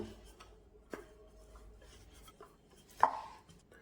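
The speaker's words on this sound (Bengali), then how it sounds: "এখন একটা রুটি বেলে নেব" A rolling pin works paratha dough on a board, with soft rubbing and rolling sounds broken by a few muffled knocks and thuds, close and fairly quiet.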